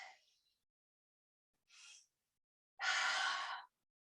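Breathing during a yoga session: a fading exhale, a short breathy puff, then a longer, louder airy exhale, close and quiet with silence between.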